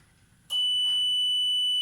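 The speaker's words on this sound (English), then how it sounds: "And the buzzer starts ringing, which is the emergency buzzer." Emergency buzzer on a mechanical safety barrier at a gate, cutting in abruptly as a loud, piercing, continuous high electronic tone that holds steady after a quiet lead-in.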